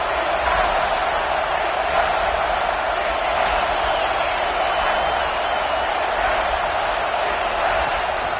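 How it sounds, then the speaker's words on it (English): A big football stadium crowd roars steadily near the goal line to fire up the defense, a dense, continuous wall of cheering and shouting that holds at full volume throughout. "this big crowd doing everything possible to inspire this defense down here near the goal line"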